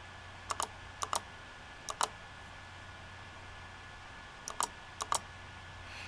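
Keys clack on a computer keyboard as letters are typed on an assistive text-entry interface, a handful of sharp paired clicks spaced out over a steady low hum, close and alone.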